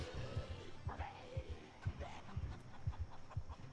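Rhythmic clucking of chickens with scattered squawks in the video game Project Zomboid, repeating steadily over a low background hum, fairly close.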